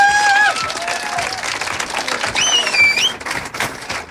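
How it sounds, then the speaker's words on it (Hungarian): A crowd in Győr applauds at a live morning radio show giveaway, a dense steady patter of clapping with a few whistle-like tones over it. "Egy nagy tapsot neki, győriek, ne legyünk irigyek."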